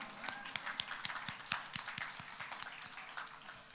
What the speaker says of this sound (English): could we have a round of applause for our sisters